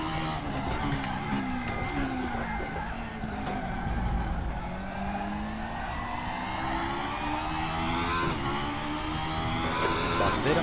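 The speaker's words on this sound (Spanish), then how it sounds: "tienes que hacerlo por el sonido del motor" A race car in the RaceRoom sim during a hillclimb at Daytona, its engine revving and shifting in rising and falling tones. The whine stays loud and close and runs continuously throughout.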